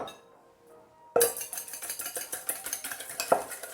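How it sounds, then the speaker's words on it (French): A whisk beats egg yolk with mustard, salt and pepper in a bowl: after a quiet start, rapid rhythmic metallic clinks and scrapes begin, close and steady, with no talking. "On va fouetter."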